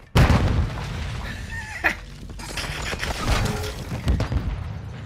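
A bomb goes off in a Search and Destroy round of an Xbox shooter, with a loud booming blast at the start and rumbling, crackling debris and scattered bangs trailing off after it.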